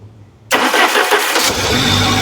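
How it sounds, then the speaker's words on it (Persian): A car with a faulty ignition coil starts abruptly after a quiet moment, its engine bursting into a loud close rough running roar that holds steady. "ماشین رو روشن کن"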